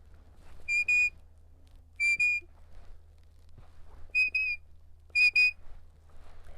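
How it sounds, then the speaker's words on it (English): A sheep dog handler sounds the "walk up" command whistle. It comes as four crisp, separate whistle bursts, each a quick doubled chirp, spaced about a second or more apart. The whistles are clear and close, with no talking. "I have a walk up whistle."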